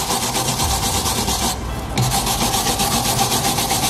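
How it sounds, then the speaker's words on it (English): Brushing off the surface of a car tie rod during an inner and outer tie rod replacement on a Lexus IS300, a steady close scratchy rubbing with a brief pause midway, then continuing without talk. "Brush this off a bit."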